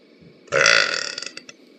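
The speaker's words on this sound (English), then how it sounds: "can you burp and say, excuse the burp, dude?" A single loud, close burp lasting about a second, with a few brief trailing gulps at the end, heard alone without talk.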